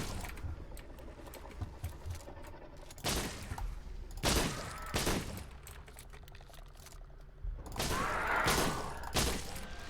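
Rapid bursts of gunfire from the Dead Frontier video game, several loud volleys spaced across the stretch with shorter shots in between, sounding alone without talk.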